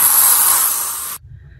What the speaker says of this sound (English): I'm gonna spray a little of this in there and close it.